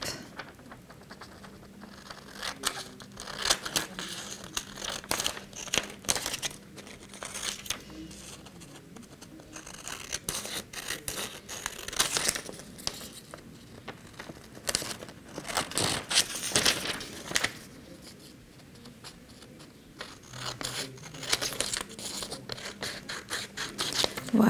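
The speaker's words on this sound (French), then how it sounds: "donc on découpe l'enveloppe." Scissors cut through a paper envelope in a craft workshop, giving faint, irregular snips and papery crinkles and scrapes spread across the clip, with quiet handling noise between cuts.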